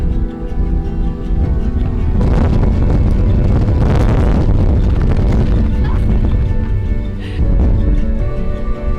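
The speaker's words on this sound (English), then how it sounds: "Really windy up here." Strong winter wind on a Scottish Highlands hillside roars and buffets the microphone, swelling in loud gusts and sustained rumbling.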